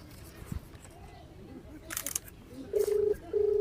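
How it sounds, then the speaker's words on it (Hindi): A phone rings in short electronic tone bursts toward the end, after faint clicks and low background noise; fairly quiet overall. "घंटी जाती है, उठाओ भौजी जल्दी फोन"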